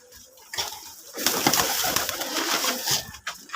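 Domestic pigeons on a farm coo in soft, overlapping rumbles that swell after a quiet start and continue close and fairly loud, with faint wing flutters mixed in.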